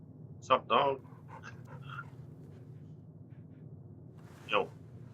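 A dog in Fallout New Vegas pants in a few short, breathy bursts, close and fairly loud over a low background hum.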